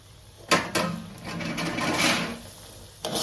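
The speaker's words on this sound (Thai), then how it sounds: "แล้วก็ผัดให้เข้ากันดีเลยค่ะ ให้ถั่วเหลืองแทรกซึมเข้าไปอยู่ใน ตัวข้าวของเราดีค่ะ" Steamed soybeans stirred into sweetened sticky rice in a pan for Thai khao tom mat, giving a scraping, rustling stir with a few sharp knocks, close and steady, no voices.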